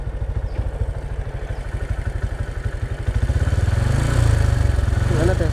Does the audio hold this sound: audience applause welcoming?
no